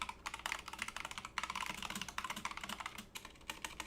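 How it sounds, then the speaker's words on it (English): A computer keyboard is typed on rapidly and furiously, a dense run of close, crisp keystrokes with brief pauses and no voices. "typing furious"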